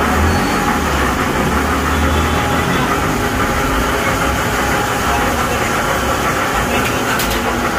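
Machine working on a Yamaha Aerox scooter mag wheel being converted to fit a Yamaha Fino, giving a loud, steady motor hum and mechanical drone with faint low rumble throughout, continuous and close.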